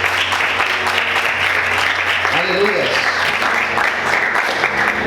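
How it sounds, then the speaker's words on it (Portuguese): A church congregation claps steadily and joyfully, a continuous dense applause with a voice calling out briefly over it. "Você pode aplaudir o Senhor com bastante alegria"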